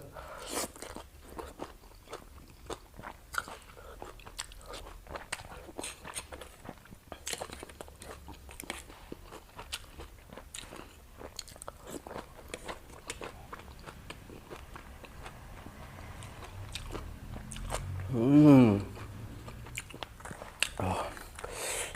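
Someone eats an Isan-style frog curry with loud, close crunching and chewing in irregular bites, while a person talks over it throughout.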